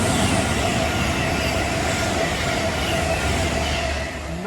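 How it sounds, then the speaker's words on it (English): A London Euston to Chester passenger train passes on the West Coast Main Line, a loud, close, continuous rush of wheels and rail noise with a faint squeal, easing slightly at the end. "here comes London Euston Chester."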